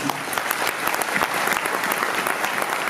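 Sustained applause from a large audience at a 2019 general assembly of the Produit en Bretagne business association, dense and steady clapping throughout with no pauses.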